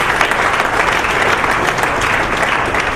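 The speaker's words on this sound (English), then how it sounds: "I think all of you need to have a round of applause for your own self" A room full of people applauds at a valedictory event, steady dense clapping from many hands that holds at an even level throughout, with no talking over it.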